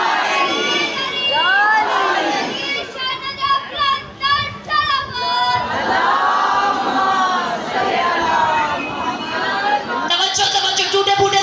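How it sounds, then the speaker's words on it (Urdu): A crowd at a religious gathering chanting slogans together, loud rhythmic collective shouts with children's voices among them, rising and falling over several seconds. "ٹوٹے پھوٹے نعرے نہ لگاؤ"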